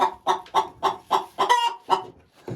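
An old hen, about two years, clucks near its nest, a series of roughly eight evenly spaced clucks, close and clear with no talk.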